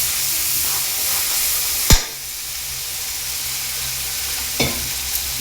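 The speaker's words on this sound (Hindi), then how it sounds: "और मैं मसाला को फ्राई कर लूँगी" Ground spice paste frying in a pan for a potato and aubrergine curry, a steady loud sizzle broken by a sharp clatter near the start and a softer knock later.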